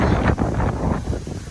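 Strong hurricane wind gusts from Hurricane Ian in Tampa, Florida, roaring and buffeting the microphone in a loud, continuous rush with surging peaks.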